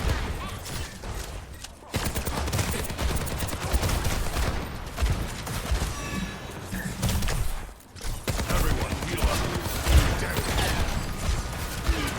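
Bursts of video game gunfire from a shooter match ring out in dense, rapid volleys, dropping briefly to near silence twice before resuming, with mechanical clatter mixed in and no speech over it.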